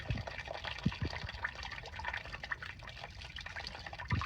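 Windshield washer fluid drains from the reservoir of a Hyundai Santa Fe during a washer pump replacement, a soft, low trickle and drip of liquid running steadily with a few louder splashes, close by with no talking.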